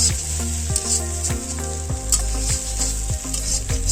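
Moringa drumsticks frying with spices in hot oil, a steady close sizzle with crackling pops and the scrape of stirring throughout.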